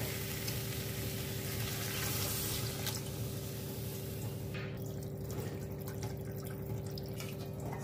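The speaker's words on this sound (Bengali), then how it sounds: "সুন্দর কষানো হয়ে গেছে, তেল ছেড়ে দিয়েছে। এবার আমি দিয়ে দেবো জল।" Water pours into a hot pan of oil-fried spices with a loud, dense sizzle and hiss that rushes up, then settles into steady bubbling and crackling.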